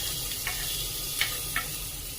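Crushed garlic, curry leaves, ginger and finely chopped onion sizzle in hot oil with mustard seeds in a pan, a steady soft frying hiss punctuated by a few small pops and crackles.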